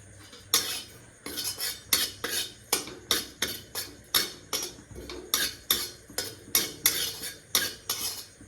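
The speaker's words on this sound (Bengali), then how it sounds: "কড়াই গরম হয়ে গেছে, পরিমাণ মতো জিরেটা ভেজে নেব।" A spatula scrapes and clacks against a hot wok as cumin seeds dry-roast, about twenty sharp, evenly paced metallic strokes in a steady rhythm, close and clear with no talk.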